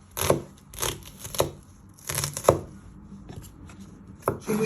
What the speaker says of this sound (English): So you just keep slicing them down the middle.